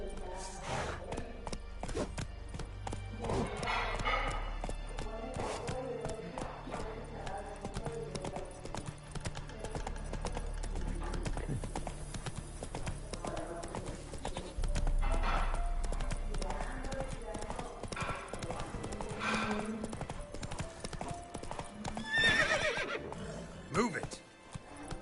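Roach the horse gallops in The Witcher 3 with continuous rhythmic hoofbeats, snorts and a whinny, while someone speaks over the riding sounds.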